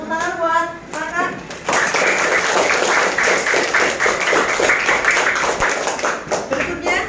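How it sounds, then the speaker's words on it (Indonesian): A primary classroom claps for a student after a presentation, with the applause rising suddenly and staying as dense, steady clapping for several seconds. A voice is heard briefly just before it starts. "Tepuk tangan buat kakak."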